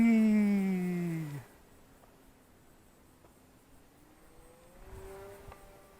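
A Skyhunter RC model airplane buzzes loudly overhead, its motor whine dropping in pitch as it passes and fades within a second and a half, then a fainter motor tone rises again toward the end.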